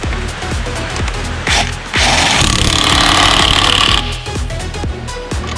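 An impact wrench tightens a bolt on a Banshee ATV, a loud, close burst of rapid hammering that runs for about two seconds amid lighter clanks and tool handling.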